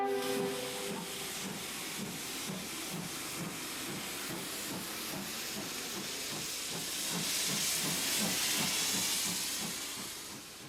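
Steam locomotive 71000 Duke of Gloucester hisses loudly as it leaves a tunnel on a hot summer day, a continuous broad rush of steam over a steady chuffing pulse that swells toward the end.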